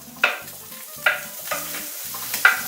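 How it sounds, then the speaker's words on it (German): Mettwurst sausages sizzle as they fry in a pan, broken by a few sharp clatters as they are stirred and moved around, a steady hiss underneath. "kann man die Mettwürste ein bisschen anbraten"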